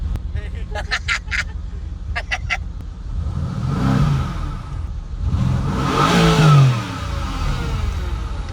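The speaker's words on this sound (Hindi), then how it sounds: "Powerful car, I must say." A powerful car's engine revs in two rising, roaring surges, each swelling and falling away, close and loud; a voice speaks briefly beforehand.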